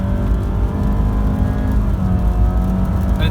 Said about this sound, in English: So as we can see, the engine revolutions are gotten up as high as they need to be.